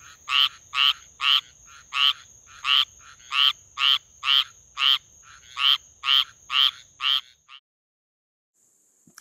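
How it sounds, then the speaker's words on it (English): Male frogs give mating calls as a loud, near series of about fourteen evenly spaced croaking pulses in a steady rhythm, then fall silent at the end. "So all those frogs you hear at night are males calling"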